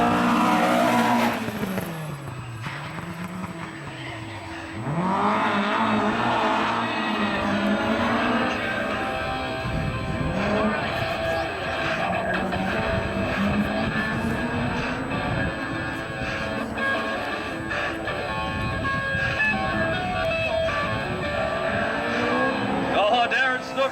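Porsche rally car sliding sideways through a drift on a classic rally stage, its engine rising and falling in long revving sweeps amid continuous road and gravel noise, with a commentator talking over it throughout.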